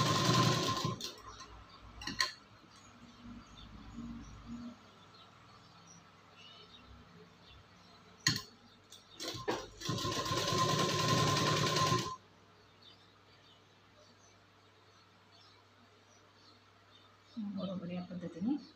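A sewing machine stitches a prince cut blouse in several bursts: short runs early on, then a longer, loud whirring stretch that stops abruptly. Someone talks between the runs.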